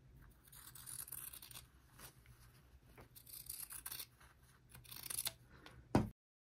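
Scissors snip and scrape through fabric in a quiet run of short, irregular cuts for a quilt block, close by, ending with a sharper snip.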